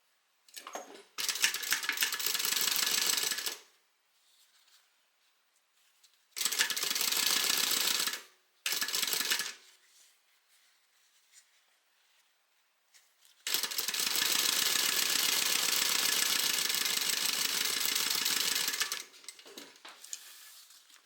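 Sewing machine stitching fabric near a zipper, running in several close, loud bursts of rapid whirring separated by quiet pauses, ending with one long continuous run.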